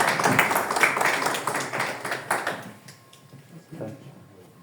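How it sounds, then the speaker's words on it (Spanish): Audience applause at a book day panel discussion in Cajamarca, scattered clapping that thins and fades out over a few seconds, leaving sparse claps and quiet room tone. "Un fuerte aplauso"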